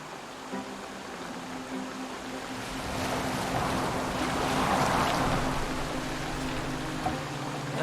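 A boat glides over water in Assassin's Creed Valhalla, with a steady wash of waves and hull noise mixed with wind that swells midway, over a low droning music bed, no voices.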